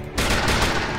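Dense, continuous rapid gunfire in the video game SteamWorld Heist crackles loudly after a brief quiet start, sounding like sustained automatic weapon bursts.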